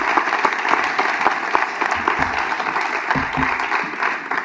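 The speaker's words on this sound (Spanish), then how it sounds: "me gustaría que le diéramos un aplauso y" Audience at a book congress gives sustained applause, a dense continuous clatter of many hands clapping at steady loudness throughout, with no voices standing out.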